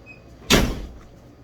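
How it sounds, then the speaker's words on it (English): A door slams shut once in a quiet indoor space, a sudden loud thud that rings briefly and fades, alone with no voices. "a door slammed for real"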